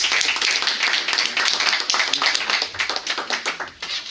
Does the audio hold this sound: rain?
no